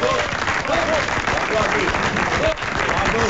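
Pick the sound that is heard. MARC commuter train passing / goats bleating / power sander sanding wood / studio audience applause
studio audience applause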